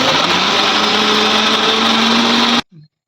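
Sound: electric mixer grinder grinding spices

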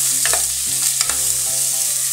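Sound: onion and scallion sautéing in pan

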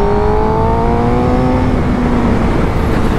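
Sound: Suzuki GSX-R750 motorcycle engine revving under throttle

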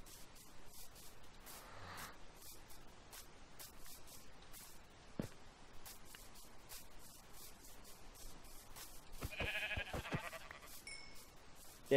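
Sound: sheep bleating in Minecraft video game

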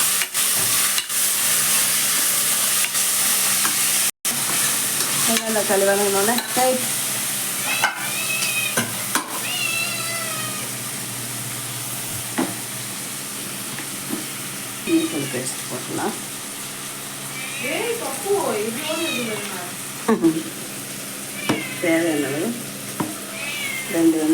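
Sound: tomatoes sautéing in oil, being stirred

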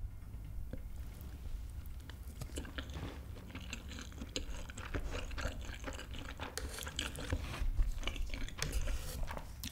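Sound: biting and chewing food while eating

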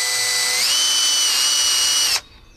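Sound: power drill with nail bit drilling out steel dart tip

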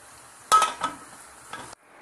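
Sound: pot being covered with a lid while cooking mutton biryani

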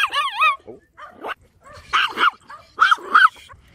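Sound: chihuahua yapping and growling at other dogs

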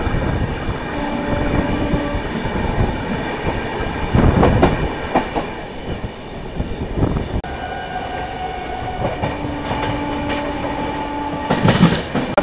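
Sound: EMU local train passing on crossing track

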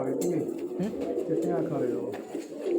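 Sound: pigeons cooing

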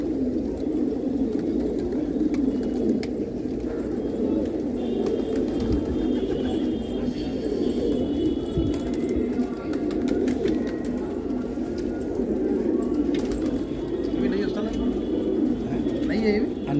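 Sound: pigeons cooing

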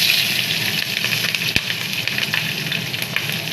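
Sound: cumin seeds sizzling in hot oil

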